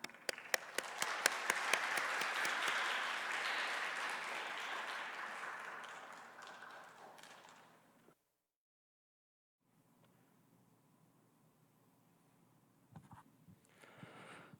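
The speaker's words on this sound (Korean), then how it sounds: "이제 김강림 전도사님 나오실 때 동안의 박수로 환영하도록 하겠습니다." A church congregation at a young adults' Sunday service applauds to welcome a speaker, starting with a few distinct claps that swell into steady full applause, then fade out, followed by near silence and a few faint scattered claps.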